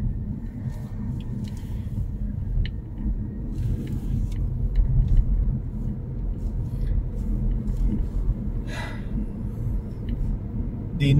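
A car pulls away during a UK driving mock test, heard from inside as a steady low engine rumble and road noise, with faint ticks and small cabin sounds and no talk.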